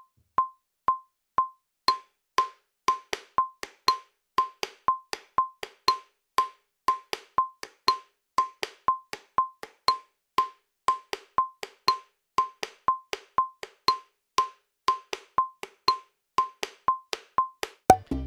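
Timbal cáscara pattern in 2-3 clave, played as a salsa rhythm on the pailas, dry sharp clicks repeating steadily with accented strokes, loud and close with no voices.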